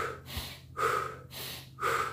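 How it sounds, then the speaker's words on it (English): Slow, deep belly and back breathing during a qigong iron body meditation: close, audible inhales and exhales in an even rhythm of about four breaths, with quiet pauses between them. "Then you do the belly and back breathing."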